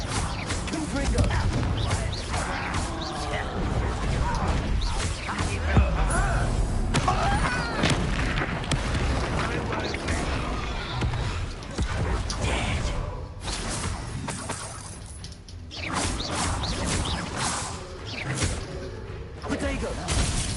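Confringo blasting spells cast during Hogwarts Legacy combat, a busy stream of thuds, booms and whooshing impacts under steady talk and game music.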